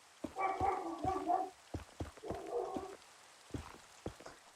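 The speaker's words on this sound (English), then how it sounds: "My dog is barking at something." A dog barking indoors, two bursts of several quick muffled barks followed by a few fainter single barks, sounding somewhat distant and heard alone.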